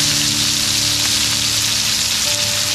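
Rib eye steaks frying in a hot pan with garlic and thyme, giving a steady, loud, dense sizzle that holds evenly throughout with no talk over it.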